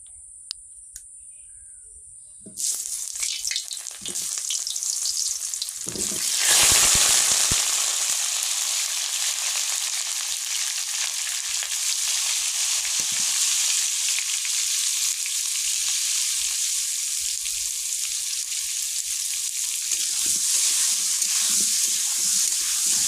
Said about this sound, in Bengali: এই যে তেল দিয়ে দিয়েছি আলুটাকে ভাজবো